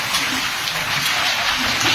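Heavy rain with hail pours down during a violent storm in Chichawatni, a dense, loud, unbroken roar of drops pounding surfaces nearby.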